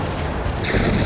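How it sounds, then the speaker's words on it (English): Projectile weapon fire in the car-combat video game WWE Crush Hour: a loud, dense rumbling blast with crackling bursts, sustained across the whole brief moment. "Stacy Keebler blasting projectiles in all directions."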